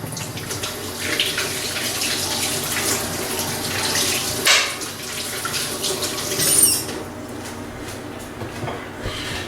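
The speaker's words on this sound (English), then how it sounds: "always, as safety, wash your hands after you're handling raw meat" Water runs from a kitchen tap during hand washing after handling raw meat, a steady hissing stream that swells briefly twice, then cuts off near the end.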